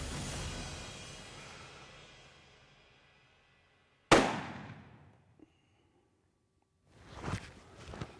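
A single sharp hunting rifle shot cracks out loudly outdoors, its echo decaying over a couple of seconds, followed by faint rustling and a short noisy burst later.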